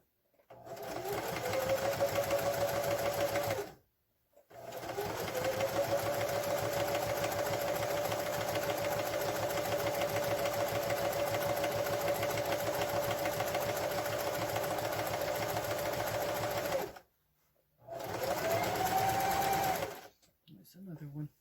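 An electric sewing machine stitching a seam on a fabric drawstring bag, a loud steady whirring run in three long bursts separated by brief pauses, the motor pitch shifting slightly as it speeds up.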